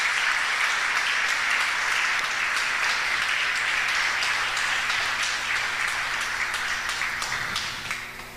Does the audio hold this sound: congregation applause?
yes